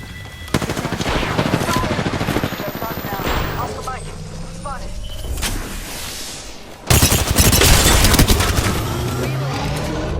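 Rapid bursts of automatic weapon fire in Apex Legends ranked play, loud and close, with stretches of sustained shooting, a heavy volley near the end and game effects mixed in.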